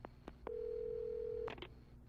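Telephone keypad tones in the video game Alan Wake: a couple of short beeps, a sustained steady tone, then a few more quick dialing blips, close and clear.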